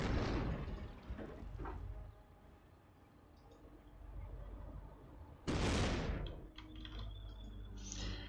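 Panther tank cannon fire in a World War II strategy video game, two heavy booming blasts a few seconds apart with rumbling battlefield noise and faint talk underneath.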